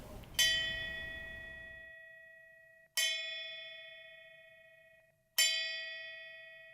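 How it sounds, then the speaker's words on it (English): A ship's bell struck three times at a slow, even pace, each clear ring hanging and fading before the next. "I actually have a ship's bell that I would ring 3 times"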